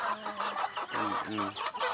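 Chickens cluck close by in a busy, overlapping flock near their coop, with short clucks and a few drawn-out calls amid steady farmyard background noise.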